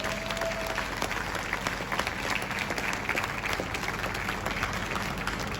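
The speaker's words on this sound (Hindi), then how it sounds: "जोरदार तालियां होना चाहिए।" Loud, dense audience applause fills a hall at a bank management event, continuous clapping from a large crowd with a few whistles, sustained throughout without pause.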